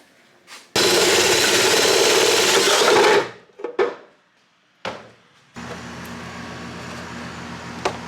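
A drill bores through the back of a plastic sprinkler enclosure box in a loud, whirring burst of about two seconds, followed by short bumps and handling noises, then a steadier lower motor hum.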